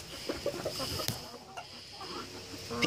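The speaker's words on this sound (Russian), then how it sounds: "Петушок постоянно зовет всех." Chickens eating rowan berries cluck softly nearby in short, repeated calls, with a rooster's low clucking among them as he calls the flock, over faint background noise.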